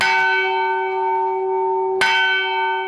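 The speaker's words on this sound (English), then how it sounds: "Here at St. George's Cathedral in Jerusalem, Mordechai Vanunu enjoys ringing the bells." Church bells ring at St. George's Cathedral in Jerusalem: loud, close strokes with long ringing decay, a second stroke landing about two seconds after the first.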